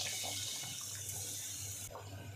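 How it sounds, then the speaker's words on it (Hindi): Water pours steadily into a pan of roasted chicken and potatoes for aloo chicken curry, a continuous close hissing splash with a brief shift near the end, no talking. "और अब हम इसके अंदर पानी ऐड करेंगे।"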